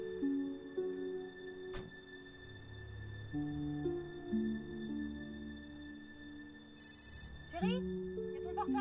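A mobile phone ringtone plays a repeating electronic melody, with a brief clatter partway through and rustling near the end.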